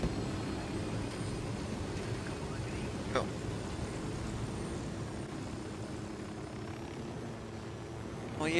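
Helicopter in the tactical shooter Ghost Recon Wildlands, a steady low rotor and engine drone holding at an even level throughout, with a brief sharp click near the middle.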